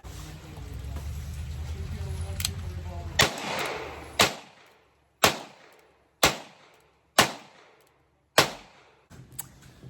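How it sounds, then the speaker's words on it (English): Two Ruger New Model Vaquero revolvers fired alternately in cowboy action shooting, five sharp loud gunshots spaced about a second apart, each with a decaying echo tail, following a stretch of steady background noise. "I've got both guns up and loaded at the same time, and I'm going to fire back and forth from each of them here."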